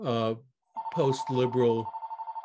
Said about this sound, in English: forgive me, that's my phone